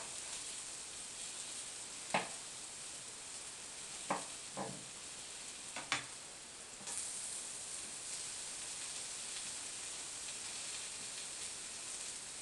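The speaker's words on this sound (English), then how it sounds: "And then just lay your apple slices in the oil" Apple slices frying in oil in a pan, a faint steady sizzle and hiss with a few soft taps as pieces are laid in, no voices.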